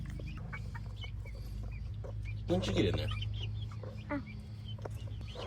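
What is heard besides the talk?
guinea fowl clucking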